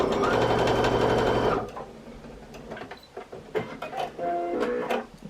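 A sewing machine stitches quilt sashing for a scrappy quilt, a loud, fast, steady mechanical whir for under two seconds that stops abruptly, followed by quieter handling clicks and faint rustling.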